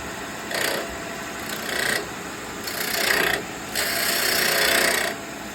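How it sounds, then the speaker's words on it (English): Wood being turned to a cylinder on a lathe for a wooden ball, a close scraping hiss coming in four separate tool passes with steady machine hum between them and no talking. "But what you want to do is just turn it to a cylinder."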